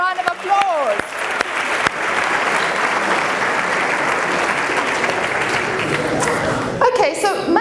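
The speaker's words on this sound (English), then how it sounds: "Give yourselves a round of applause." An audience at a university welcome address claps in loud, sustained applause that fills the room evenly, with a speaker's voice coming back in just as it fades.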